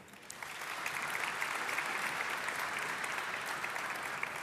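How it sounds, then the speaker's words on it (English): Steady, full audience applause for the conductor of a choir at the Namibia International Energy Conference 2024, a dense even wash of clapping from a large hall crowd, sustained throughout. "And a round of applause to their very able conductor,"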